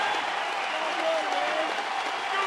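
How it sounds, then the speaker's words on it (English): Crowd applause at a Rangers vs. Angels baseball game in the Anaheim stadium, a steady broad wash of clapping and cheering held at even loudness throughout, with a commentator's voice faintly audible over it. "getting a terrific round of applause here"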